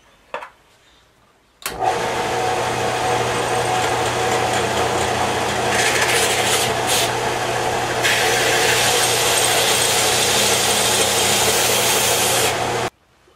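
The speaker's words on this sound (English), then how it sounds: "I'm going to turn on the band sander" After a quiet start, a band sander switches on and runs loudly and steadily with a constant motor whine for about eleven seconds, its grinding rising partway through as the workpiece meets the belt, before cutting off.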